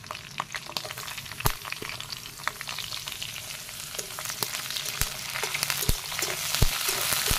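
Onion, garlic and chili frying in oil in a pan make a steady close sizzle, dotted with sharp crackles and pops that grow busier toward the end. No one speaks.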